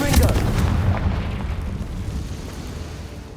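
Confringo blasting spell explosion in Hogwarts Legacy, a loud sharp detonation with a heavy low boom that rumbles and slowly fades over a few seconds.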